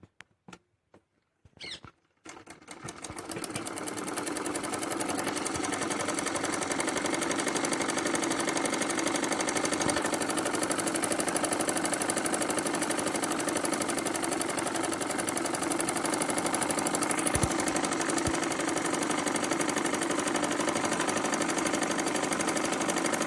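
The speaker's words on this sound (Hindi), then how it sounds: "इस तरीके से सिलाई लगाएंगे" After a few clicks, a sewing machine runs continuously, stitching salwar panels with a steady, even whirring drone that holds close and constant to the end.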